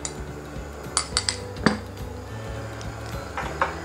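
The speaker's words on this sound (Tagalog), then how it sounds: "Haluin lang natin to hanggang ma-coat yung ating pork belly." Pork belly stirred with starch and beaten egg whites in a bowl, giving several sharp clinks of a utensil against the bowl and soft wet mixing over a steady low hum.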